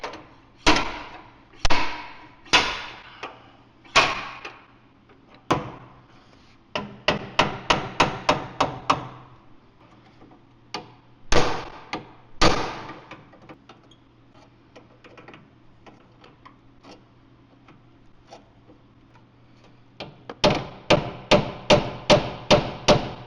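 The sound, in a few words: slide hammer pulling headlight mount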